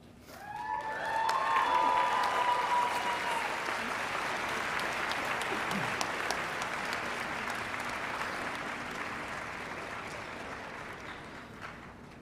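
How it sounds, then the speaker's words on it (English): Applause from a commencement crowd honoring class of 2023 graduates, steady and fairly distant, swelling after a faint whistled tone at the start and then slowly tapering over about twelve seconds. "How about one more hearty round of applause for our class of 2023 graduates?"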